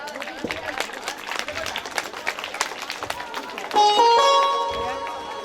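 Villagers clap in welcome at a village performance of a Bhojpuri stage play; dense, steady crowd applause carries on under talk, then a bright electronic musical tone cuts in near the end.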